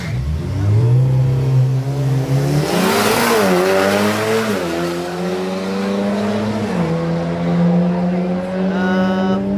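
Drag racing cars at the Killarney Drag Day in 2025 roar loudly off the line, the engine pitch climbing and stepping through gear changes as they accelerate down the strip, with a brief tire screech early on.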